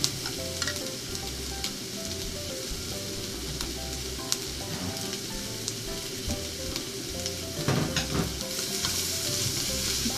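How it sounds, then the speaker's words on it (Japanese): Onions for a side dish being stir-fried in a pan for ginger pork, with a steady loud sizzle and occasional scraping stirs throughout, no talking. "付け合わせの玉ねぎを ちょっと炒めますね"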